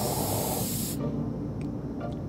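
A spray paint can in a skateboarding-themed video game lets out a loud, close hiss for about a second, then cuts off, leaving a few faint clicks and soft game sounds.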